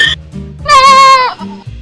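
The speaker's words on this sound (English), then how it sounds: "mountain goat" A mountain goat lets out a single loud, wavering bleat at close range, lasting about half a second, framed by low, soft grunting sounds before and after.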